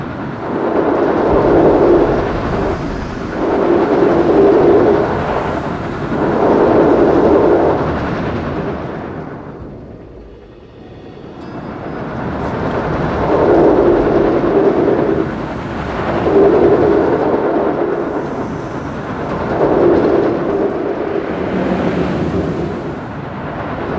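A Vekoma boomerang roller coaster train in a theme park video game rumbles through its circuit in loud, swelling surges, eases to a near lull midway, then roars back through another run of rises and dips.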